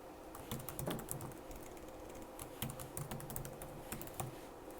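Rapid keystrokes on a computer keyboard as a password is entered, a steady close clatter of light clicks with a few slightly heavier taps, heard alone without speech.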